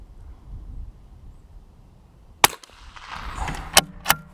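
A .22 LR rifle loaded with Federal Hunter Match ammunition fires outdoors in light wind, giving one sharp, fairly close crack after a quiet stretch, followed by a couple of smaller clicks from the action.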